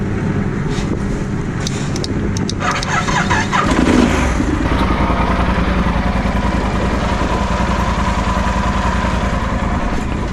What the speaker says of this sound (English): So you have to turn on the motorcycle so the headlight turns on